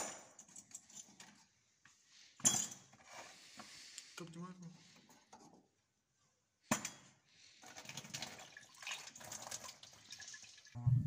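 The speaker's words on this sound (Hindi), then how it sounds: "अब आप लोगों ने रिलीटर में पानी को डालना है।" Water is poured into a 200cc rickshaw's radiator and splashes in uneven spurts, with a few sharp clanks and brief pauses between pours.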